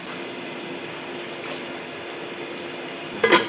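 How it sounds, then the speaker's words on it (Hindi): A pot being filled with water for mutton nalli nihari gives a steady, close rushing stream that lasts throughout and ends in a brief louder clatter. "देश की पूरी पानी से भरनी है"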